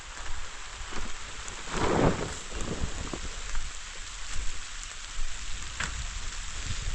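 Steady rain falls in a constant hiss, with a low rumble swelling briefly early on; no voices, just the even wash of the downpour.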